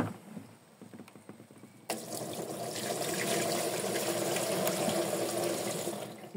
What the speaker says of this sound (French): Le restant du seau là. Et elle sera rincée.